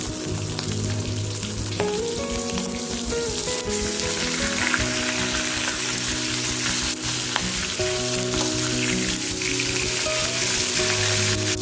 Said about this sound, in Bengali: এরপর মাথাগুলো ভাজা হয়ে গেলে